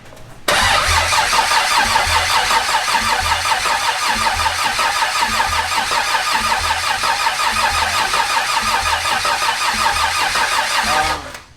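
A Barra-swapped Ford Mustang GT350 engine cranks continuously for about eleven seconds with a rhythmic chugging starter whir, never catching, apparently not getting fuel, then stops abruptly.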